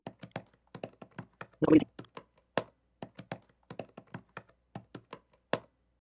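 Clicks of a computer keyboard as a word is typed, a sparse irregular run of sharp keystrokes, close and fairly quiet, with one louder thump in the middle.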